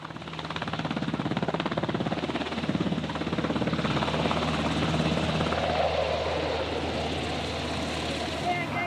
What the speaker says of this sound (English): their dads, who arrive in style in a helicopter assault at the end of a rope